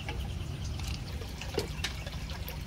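A pipe is rinsed in water while mixing A and B stock fertiliser, giving a close, continuous splashing and trickling with a few brief drips.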